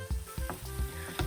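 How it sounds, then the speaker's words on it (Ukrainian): Syrnyky, Ukrainian cheese pancakes, fry in a pan with a soft steady sizzle and a few rhythmic bumps as they are moved or stirred, close and quiet, with no talking. "Смажимо ще 4 хвилини."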